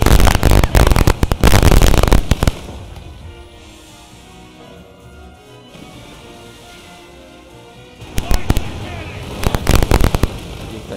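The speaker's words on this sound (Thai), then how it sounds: "ยิงปืนใหญ่กัน" Rapid bursts of loud booming ship cannon shots in the game Uncharted Waters Origin crackle in dense volleys, fall silent to a low rumble for several seconds, then resume with another barrage.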